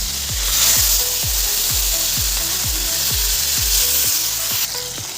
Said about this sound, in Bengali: ততক্ষণে মাছটা ফ্রাই করে নিই